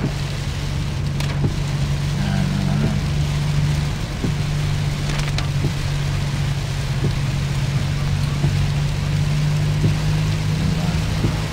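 Rain drumming steadily on a vehicle during a road trip drive to KM90 in Infanta, Quezon, with a constant low road and engine rumble and scattered drops tapping on the surface.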